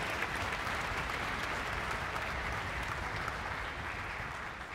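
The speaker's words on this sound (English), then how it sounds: "So let's give them a round of applause." A concert audience at the All-Philadelphia High School Music Festival applauds steadily for student performers, a dense, even wash of many hands clapping that holds at a moderate distance throughout and tapers only slightly at the end.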